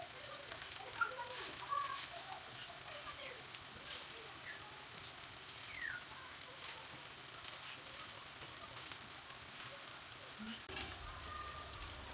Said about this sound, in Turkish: Bunları az yağda kızartacağım.